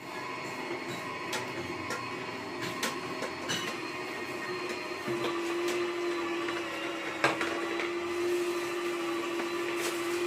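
An electric juicer runs steadily while extracting juice, giving a continuous motor whine and hum with a few sharp clicks and knocks; a higher steady tone joins midway, and no one speaks.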